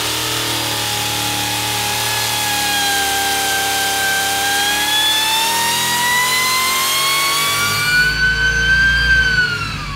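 A supercharged Harrop big block Chevrolet engine screams on a dyno pull, its loud roar and supercharger whine climbing steadily in pitch toward about 7,500 rpm before abruptly cutting off near the end.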